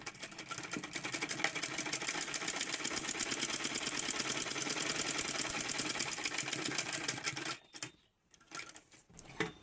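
A sewing machine runs steadily while stitching a blouse, with a fast, even mechanical chatter held for about seven seconds, then stopping and leaving a few faint handling clicks.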